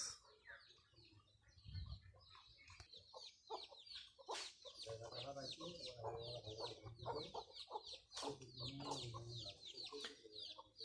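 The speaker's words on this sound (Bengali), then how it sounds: "মুরগির ছানাগুলো চিউ চিউ চিউ চিউ করছে" Many small chicks peep rapidly and continuously in very hot weather, with occasional hen clucks underneath, fairly close by.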